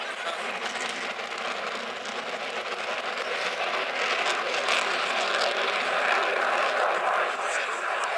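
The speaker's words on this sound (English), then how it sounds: "So putting the aircraft round as tightly as he can." A display aircraft flies a tight low-level turn at the Sunderland International Airshow, its steady engine roar holding throughout and growing slightly louder toward the end, with a faint steady tone beneath it.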